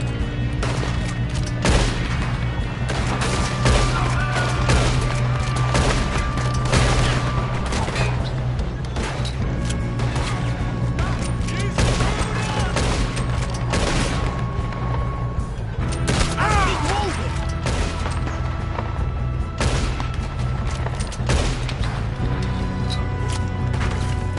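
Repeated gunfire and heavy shotgun blasts in Red Dead Redemption 2 during a shootout, loud and sustained over music and game noise, with scattered voices.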